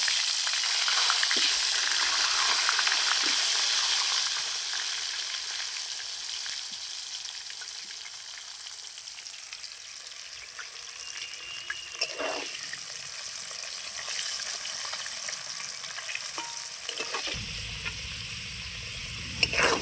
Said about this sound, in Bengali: এইবার আমি আলুগুলো ছেড়ে দিচ্ছি